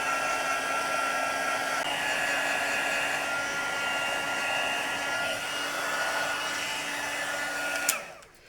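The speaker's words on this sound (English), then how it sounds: "Close the lid on that and bring in the heat tool. Noise time." A heat tool blows hot air over embossing powder on a card with a loud, steady whirring hiss for several seconds, then clicks off abruptly.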